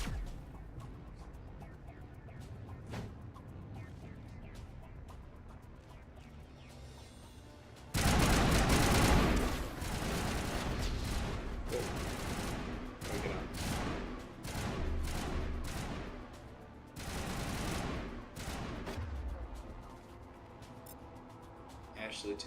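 Assault rifle fire in Mass Effect, several loud sustained automatic bursts separated by pauses, mixed with game effects while people talk throughout.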